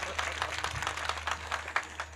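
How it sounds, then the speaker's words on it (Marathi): A seated audience at a Marathi kirtan claps for Chhatrapati Shivaji Maharaj, a brisk spread of many hands heard at moderate distance over a steady low hum, with no talk on top. "जोरात टाळी वाजवा निदान छत्रपतींकरता तरी"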